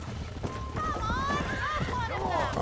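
Horse hooves clip-clop steadily in the Red Dead Redemption video game during ranch work, mixed with whinny-like tones, game ambience and someone talking over them.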